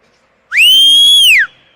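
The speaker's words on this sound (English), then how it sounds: "Sorry, I had to whistle there." A single loud, sustained whistle from a spectator at a youth 14U girls' ice hockey game, rising, holding steady for about a second, then falling away, heard alone and close.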